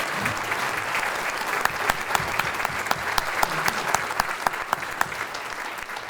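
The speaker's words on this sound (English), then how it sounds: "let's recognize you with a big round of applause" Audience at a STEM luncheon applauding steadily, dense clapping from a sizable crowd throughout, fairly loud and sustained with no speech over it.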